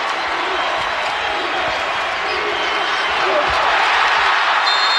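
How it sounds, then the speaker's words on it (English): Loud, sustained roar of a packed basketball arena crowd cheering at an Indiana at Purdue college game, a dense wash of voices swelling slightly near the end, with a play-by-play announcer talking over it. "They're fired up right now. This crowd is getting behind them."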